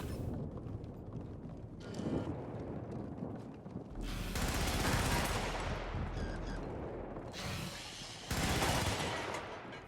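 MG94 machine gun fire rattles out in Helldivers while patrols are engaged, with several long, loud sustained bursts separated by short pauses amid explosions and rumbling battle noise.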